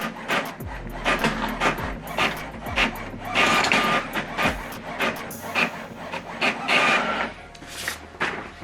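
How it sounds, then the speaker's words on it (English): An HP OfficeJet Pro 9019e prints a single-page black-and-white document: nearby mechanical whirring with repeated rhythmic clicks and paper-feed rasps in quick succession, steady throughout. "So this document now is printing black and white and single page."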